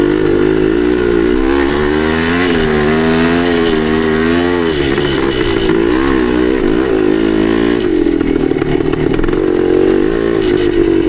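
A 1972 Yamaha DT2 enduro motorcycle engine revs loudly and continuously, its two-stroke note rising and falling through the throttle with steady harmonic pitch swings, close and alone with no voices.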